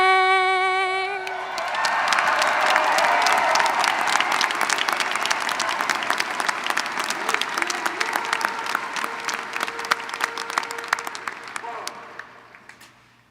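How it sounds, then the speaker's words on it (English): An audience at a military induction ceremony breaks into loud, sustained clapping with a few cheers, rising quickly, holding for several seconds, then thinning out and fading near the end. "give Dr. Miley Dong and the Luke Color Guard a big round of applause"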